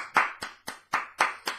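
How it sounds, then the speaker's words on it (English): Six sharp hand claps from a single person, spaced irregularly about a quarter-second apart, close and clear with no voices. "I think we should all give her a big clap."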